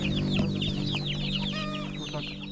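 Several chickens cluck and chatter together in a steady, busy flock in Ukraine's Avdiivka area, with a constant low hum underneath.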